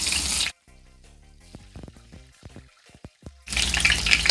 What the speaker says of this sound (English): And I've got some spring onion, fresh to wash.